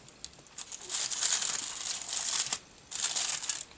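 Paper crinkles and crumples in short bursts as a craft rose is folded and pressed down by hand, close and fairly soft with brief pauses between handlings.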